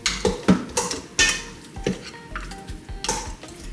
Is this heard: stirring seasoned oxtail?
yes